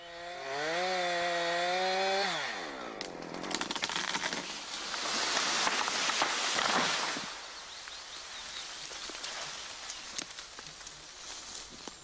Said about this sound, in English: Saw carefully around the trunk.